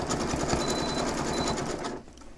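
A sewing machine with a stitch regulator stitches a variable zigzag on a quilt, rapid close mechanical whirring that runs steady for about two seconds before stopping abruptly.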